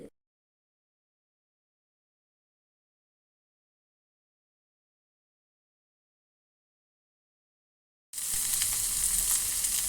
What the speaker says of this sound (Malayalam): ഒരു ചട്ടിയൊക്കെ വെച്ച് ഇതിൽ കുറച്ച് വെളിച്ചെണ്ണ ഒഴിച്ച് ഞാൻ ഈ കൈപ്പങ്ങ വയറ്റിയെടുക്കാൻ പോവാണ്